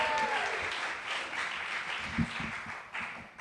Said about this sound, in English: please give a long round of applause for Vanessa Birch